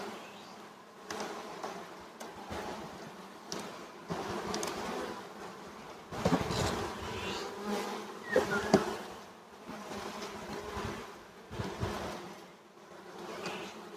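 Honeybees buzz in a dense, shifting hum around a hive, with louder swells as individual bees pass close.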